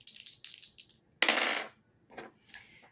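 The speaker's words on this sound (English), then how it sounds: "rolling the dice to see what I need to shuffle a deck to." Dice clatter in quick tumbling bursts, then a loud rattling roll, followed by a few lighter clicks as they settle, close by and alone.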